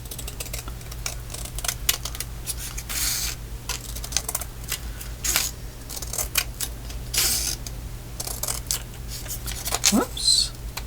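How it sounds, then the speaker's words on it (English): Long scissors cutting paper for an altered book, a series of irregular crisp snips and rustles, close, with soft handling noise and a brief rising squeak near the end. "I'm going to cut that little bit of white off of there, though. Long scissors!"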